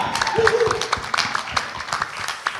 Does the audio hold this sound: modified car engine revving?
no